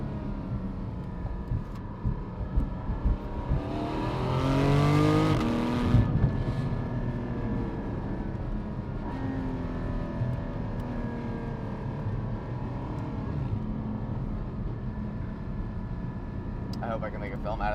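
Porsche 718 GT4 sports car driving on smooth pavement, with a steady engine drone and tire roar inside the cabin, a rising rev swell early on, and a voice talking over it.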